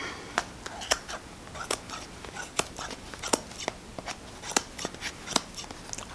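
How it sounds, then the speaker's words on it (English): Scissors cut thick wool into strips for mini bobble hat decorations, a series of crisp, close snips at a steady rhythm, with no talking. "So all you do then is get your scissors and cut along"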